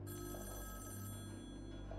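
A telephone rings at a central station in the Splatoon 2 Octo Expansion game, a faint electronic trill over a steady tonal hum of background music, continuous for two seconds without talk.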